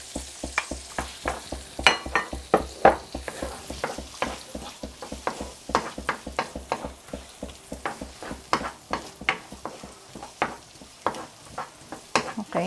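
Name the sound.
onions sweating in oil and butter in a pan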